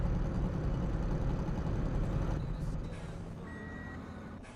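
Repeated electronic reversing beeps sound over a rumbling truck engine in Ship Graveyard Sim 3, the engine noise loud at first and then easing off as the beeping continues alone.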